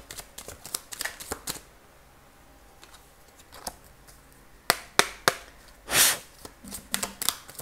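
Tarot-style cards are shuffled and laid out on a table. Quick riffles and flicks come in bursts, with sharp slaps as cards are set down and quiet gaps in between.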